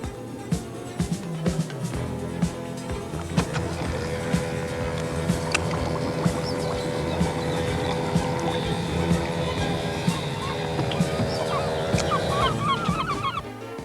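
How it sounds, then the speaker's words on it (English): Two Volvo Penta-powered 22-foot day cruisers at full throttle on water, their engines a continuous loud droning roar with a steady whine, accompanied by splashing and occasional knocks. "Two 22-feet day cruisers, apparently identical, loaded in the same way at full throttle."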